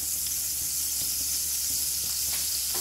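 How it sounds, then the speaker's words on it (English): Butter melting in a hot pot gives off a steady, bright sizzle and hiss, continuous and close, with faint crackles and no voices. "I'm gonna toss a piece of butter and just allow that to melt."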